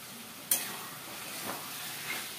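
Pointed gourd curry with yogurt and spices being stirred in a pan, a few soft scrapes and one sharper knock over a faint, steady sizzle-like hiss.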